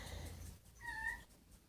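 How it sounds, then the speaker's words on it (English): A kitten lets out one short, high meow nearby, brief and clear against a quiet indoor background with a low rumble just before it. "the kitten meow got me train of thought off"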